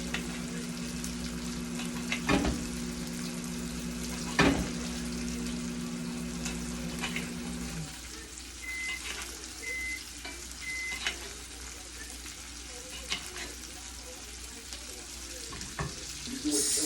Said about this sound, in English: Adding some onions into the pan to baste them with that butter and garlic sauce.